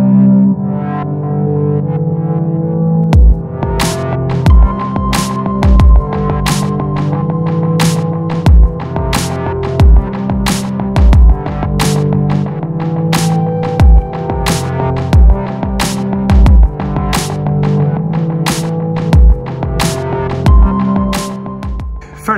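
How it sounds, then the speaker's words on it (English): On a motorcycle triple clamp, a slitting saw cuts with a loud, steady, distorted grinding drone. Sharp, regular impact clicks repeat about once a second for most of the cut. "Got my terrifying murder saw set up, ready to cut this triple clamp."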